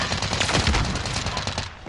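Sustained gunfire pours out in dense, rapid bursts that run together into a continuous loud, close roar with no pause.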